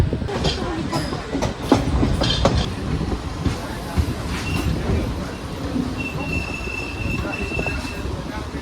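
A Doon Express passenger train pulls into Barabanki Junction running late, a continuous rumble of wheels and carriages with metallic clatter and a long thin wheel squeal toward the end, steady and fairly loud.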